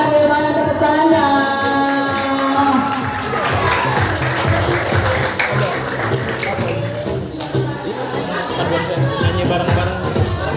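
An audience at a school event claps and cheers, the clapping dense and continuous for several seconds while a host's amplified voice and crowd chatter carry on over it.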